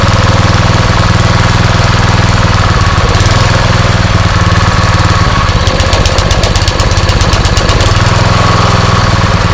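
A Honda GX160 small engine, blown and suspected of a carburetor problem, idles while warming up: a loud, steady, close chugging drone that runs unbroken from start to finish.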